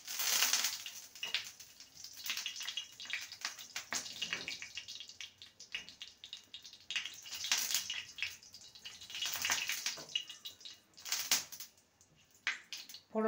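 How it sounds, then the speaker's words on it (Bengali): Black cumin seeds and a whole dried red chilli fry in hot oil as a tempering for mustard bitter gourd, crackling and hissing in uneven bursts that swell and fade, with no voices. "ফোড়নে দেবো হাফ টিস্পুন কালো জিরে, একটা গোটা শুকনো লঙ্কা। ফোড়নটাকে ভেজে নেব।"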